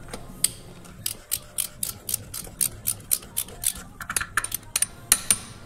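Ratchet with a 15/16 socket tightening the drain plug on a Jeep Gladiator, a quick run of sharp clicks in uneven bursts, close, with a voice talking at times over the clicking.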